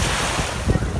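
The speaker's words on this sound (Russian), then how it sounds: "Волны. Небольшие волны." Small sea waves washing onto a sandy beach in Anapa, a brief rush of surf mixed with wind rumble on the microphone, close and fairly loud, with a slight swell of water near the end.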